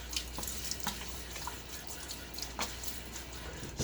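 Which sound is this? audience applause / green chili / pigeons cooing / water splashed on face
water splashed on face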